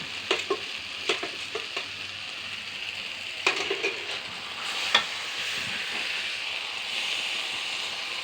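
Pomfret fish stir-fried with a splash of water in a pan, a steady hissing sizzle with a few sharp clinks and scrapes of a utensil in the first half, moderately loud and close.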